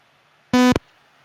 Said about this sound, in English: Loud beep, which is cool.